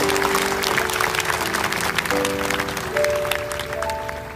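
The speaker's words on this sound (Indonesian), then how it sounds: "Kasih tepuk tangan tuh Tuhan" A church congregation at a Pentecost service in Kuching, Sarawak applauds together, a dense steady wash of clapping under sustained keyboard or organ chords that shift pitch, the crowd noise full and continuous throughout.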